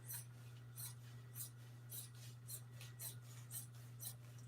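Scissors snip through seat cover material while recovering a 1955 Chevy front seat, about a dozen quick, even cuts in a close, regular rhythm over a low constant hum.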